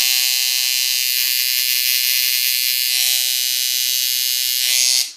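Tattoo machine with a Magnum needle filling small areas, a steady close electric buzz that holds constant and cuts off at the end.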